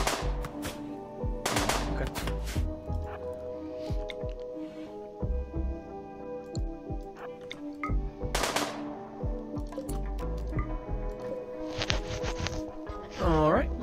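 Gunfire in the game RimWorld, a dense run of sharp shots in bursts that recur through the stretch, mixed with other game effects and tonal music, with talk over it.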